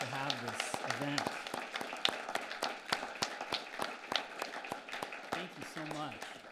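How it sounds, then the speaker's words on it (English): An audience at an evening lecture gives a round of applause, a busy, continuous spatter of clapping with sharper individual claps scattered throughout and voices talking over it at moments. "please join me with a round of applause for Dale and his contributions"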